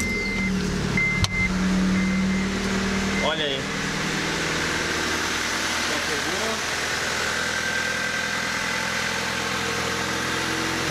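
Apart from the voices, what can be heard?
Honda Civic engine starting and idling cold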